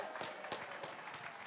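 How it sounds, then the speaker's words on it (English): Audience applauding at a Christmas talent show, a short burst of steady, dense clapping from a crowd of moderate size, heard on its own without talk. "A round of applause for our volunteers."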